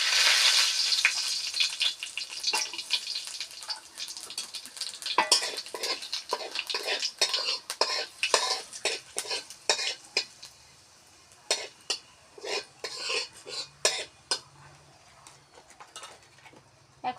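Black cumin seeds tossed into hot oil with chillies and bay leaves, frying with a steady sizzle while a spoon scrapes and clinks against the pan in quick irregular strokes.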